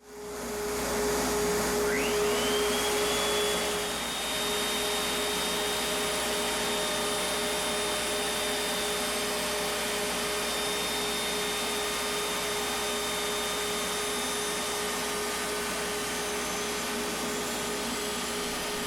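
A shop vacuum for dust extraction roars steadily while a router shapes wood for a small coin box, loud and continuous from start to finish, with a thin high whine rising as the cutter spins up.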